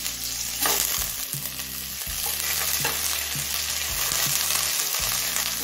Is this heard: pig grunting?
no